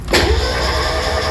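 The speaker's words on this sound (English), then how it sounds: "Now we're gonna try to crank the engine, and again, there should be a spark over here." A Mazda Miata engine cranks over after its ignition coils were replaced: a sudden, loud, steady mechanical whir that starts a moment in and holds for about a second, with no voices.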